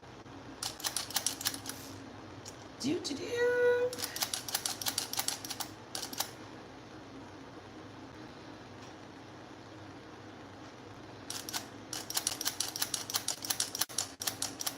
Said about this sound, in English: You're typing with a kitty on you.